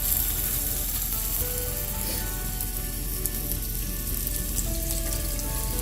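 Spiced chicken patties shaped like burgers sizzle steadily in a frying pan, a dense, even crackle that runs loud and continuous throughout with no talking.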